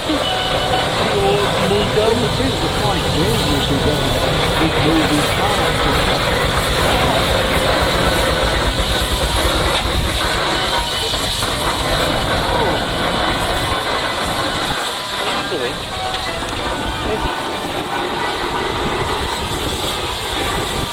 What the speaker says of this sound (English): the Showman's engine, built in Thetford in Norfolk